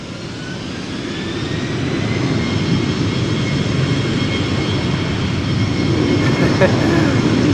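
A KLM Embraer 190 jet takes off at Amsterdam Schiphol, giving a steady, loud broadband engine roar that swells over the first seconds and then holds close and continuous.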